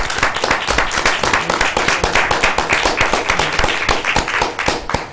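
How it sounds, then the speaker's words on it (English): Audience at a school board meeting breaks into applause, a dense, even stretch of many hands clapping close by for about five seconds without talk. "here's a round of applause"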